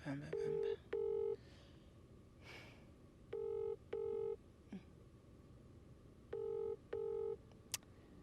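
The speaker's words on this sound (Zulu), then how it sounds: "sifonele usisi sibone ukuthi manje uzoyibamba yini ifoni" A phone line rings on with no answer, its ringback tone sounding as clear paired bursts that repeat about every three seconds over a faint background hiss.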